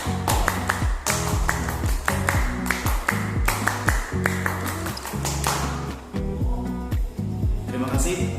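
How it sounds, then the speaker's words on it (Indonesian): A group performs the Pramuka scout clap, two rounds of sharp rhythmic clapping patterns in quick bursts, loud and close, with voices faintly mixed in. "Dua kali tepuk Pramuka."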